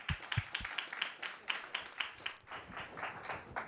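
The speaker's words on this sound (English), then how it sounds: "Let's give him a round of applause." A small audience claps for a speaker being welcomed at a talk on digital patient care, a faint, fairly sparse round of rhythmic hand claps heard from a distance for a few seconds.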